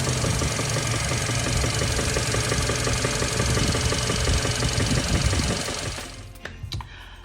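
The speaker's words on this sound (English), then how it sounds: "the engine is going crazy this time. It's like making all this noise." A car engine clatters with a loud, fast, rhythmic abnormal knocking for about six seconds, then the noise drops away sharply.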